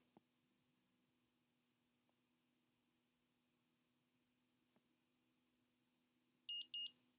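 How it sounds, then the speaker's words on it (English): An insulin pod beeps while being filled, two quick high electronic beeps near the end of an otherwise quiet stretch with faint background hum. "there were 2 little beeps"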